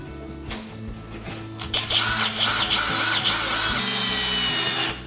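A power drill whirs in short bursts, driving screws into drywall beside an electrical box, with repeated loud spin-ups and stops close by.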